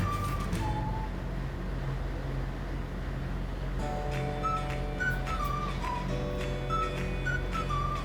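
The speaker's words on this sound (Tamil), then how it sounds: "இப்போ ஒரு விசில் வந்துருச்சு அடுப்பை நான் ஆஃப் பண்ணிட்டேன்" A high, wavering whistle rises and falls over a constant low hum, sounding like a steam whistle venting nearby: a pressure cooker whistling on a stove while cooking vegetable biryani.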